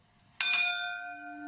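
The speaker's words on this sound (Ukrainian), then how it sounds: "дзвін корабельної ринди" A ship's bell rings once in the Odessa Film Studio logo, a sharp bright strike that rings on in a long, slowly fading shimmer.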